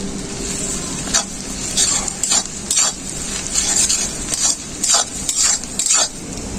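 Ginger and garlic paste fry with onions in a pan, a constant sizzle under repeated scraping strokes of a spoon stirring the mix.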